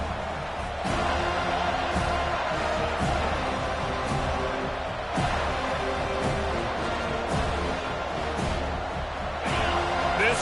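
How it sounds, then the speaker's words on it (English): Stadium crowd roars steadily throughout a PS5 American football video game, a dense continuous wall of noise with occasional louder swells and thumps, while commentary voices talk over it. "This crowd going to try to make life miserable for these guys."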